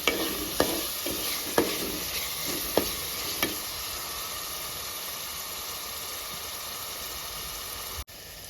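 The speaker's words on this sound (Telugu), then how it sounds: "ఇది సిమ్లో పెట్టుకొని బాగా ఫ్రై చేసుకోవాలి" Onion paste fries on low heat in a pan for a crab curry, a steady gentle sizzle with several spoon scrapes and taps near the start.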